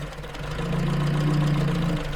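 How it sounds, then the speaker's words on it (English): A Morris car engine that sat in a barn for ten years idles with the air filter off, running a little lean. Its steady idle rises and holds higher once the lifting pin is raised, close and with no talk. "You see, when I lift it, the idle goes up."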